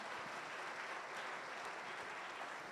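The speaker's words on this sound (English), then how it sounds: "A loud round of applause to all of them." Faint but steady applause from the audience at a summer school closing ceremony, many hands clapping in an even, continuous wash heard from a distance.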